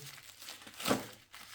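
A sealed plastic bag from a Xiaomi Soundbar 2.0ch box is torn open with a short crinkling rip that peaks sharply, close and loud.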